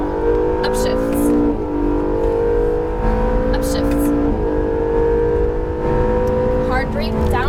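An Acura NSX engine pulls hard at full throttle on a racetrack, its steady loud drone climbing in pitch and dropping back at each of several upshifts, with an instructor's voice talking over it throughout.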